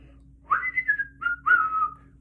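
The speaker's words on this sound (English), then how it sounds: "whistling a happy tune" Someone whistles a short melodic phrase, three clear notes sliding downward, close and solo against a quiet background.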